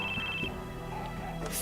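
A telephone rings in the Crisis Core video game, a steady high electronic trill sounding over a continuous game background for a brief moment.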